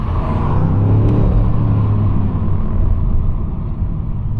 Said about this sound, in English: Back the window a little bit so you can hear the exhaust